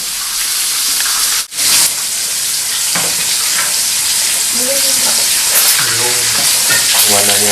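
Petai stink beans frying in hot oil give off a loud, steady broadband sizzle with stirring and scraping throughout, while a voice speaks briefly near the end.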